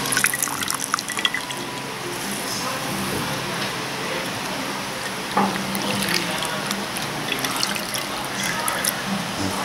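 Squeezed atchara, grated green papaya pickle, being rinsed in a bowl of water, with continuous close sloshing, dripping and splashing and a brief louder splash midway.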